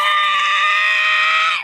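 A voice imitates the monsters screaming in Godzilla x Kong: one loud, sustained, strained shriek lasting under two seconds and cutting off abruptly.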